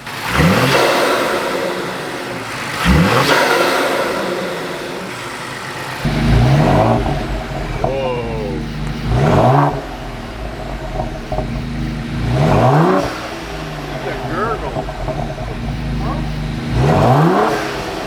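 A modified Police Interceptor car engine revs hard in about six sharp bursts, each rising then falling back to a deep idle rumble, loud and close, with people talking between the revs.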